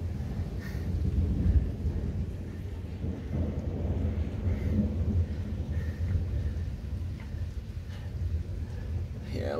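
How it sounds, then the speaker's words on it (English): Thunder rumbles low and long through a severe lightning storm, a deep rolling roar over steady rain, with voices talking in the background. "Yeah, lightning storm, more extreme lightning storms."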